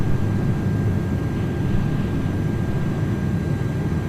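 A VTOL aircraft flying in the video game Microsoft Flight Simulator 2024, a steady low rumbling drone of engines and rotors, continuous and fairly loud throughout.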